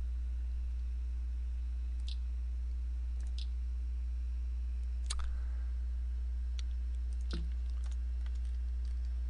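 Sparse computer mouse clicks while dressing an avatar through a right-click menu in Second Life, a handful of faint, isolated taps over a steady low background hum, with no talking.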